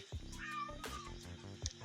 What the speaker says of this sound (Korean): 야옹이가 있네